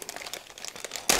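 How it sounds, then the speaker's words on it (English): Paper wrapping crinkles as a Transformers Studio Series Coronation Starscream toy part is unwrapped, with close, irregular rustles and crackles that end in a louder, brief burst of crumpling. "There's something wrapped in paper here."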